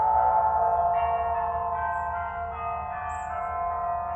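Church bells, roughly 60 of them, ring continuously with a dense, overlapping peal of many tones, steady and full throughout with no voices.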